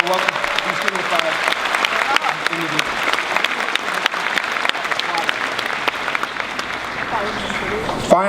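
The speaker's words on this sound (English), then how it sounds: "Please join me in a round of applause" Audience at a 2015 high school graduation ceremony applauds steadily, a dense wash of many hands clapping that continues evenly and then fades near the end, with a few voices faintly beneath.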